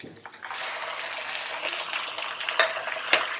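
Steady sizzling of chicken frying in a hot pan with garlic and ginger, with a couple of sharp clinks of a utensil against the pan near the end.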